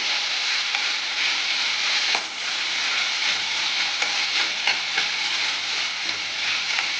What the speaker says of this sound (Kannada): ಸರಿಯಾಗಿ ಮಿಕ್ಸ್ ಮಾಡೋಣ ಚೆನ್ನಾಗಿ ಫ್ರೈ ಆಯಿತು